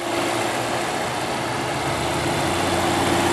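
A 2016 Volvo S60 Inscription T5 with a 2-liter Drive-E turbocharged four-cylinder idles steadily up close, a smooth continuous hum with a low-pitched drone and no talking.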